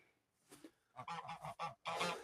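A flock of geese honks loudly near water, a burst of calls followed by a dense, overlapping run of harsh honks that grows fuller toward the end.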